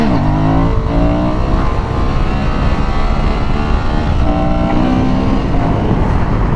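A Honda Transalp 750 motorcycle accelerates hard for a wheelie, its engine loud and close with rising revs and gear changes, backed by steady wind roar.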